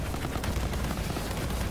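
Rapid gunfire bursts from a weapon in the Borderlands 3 shooter game, loud, dense and close, filling the whole moment without talk.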